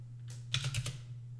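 Keystrokes typing a git pull command in Git Bash on a computer keyboard, a quick cluster of four or five close, light clicks over a steady low electrical hum, with no voice.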